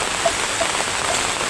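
Heavy rain falling in a village, a steady close hiss of drops pattering on surfaces, uniform and loud across the short stretch with no talking.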